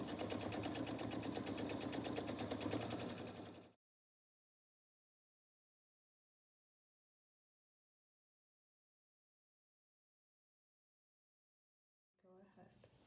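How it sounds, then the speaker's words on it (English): A sewing machine stitches a quarter-inch seam around the edge of a reversible apron. It runs as a steady, fast mechanical whir for a few seconds with a voice over it, then stops, leaving a long silence. "So I'm just going to go all the way around the apron with my 1/4 inch seam."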